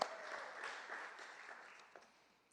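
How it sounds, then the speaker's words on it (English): Brief, fairly faint round of audience applause at a statewide inspirational speech championship, a soft wash of clapping heard from a distance that tapers off over a couple of seconds. "Let's give Allison a round of applause."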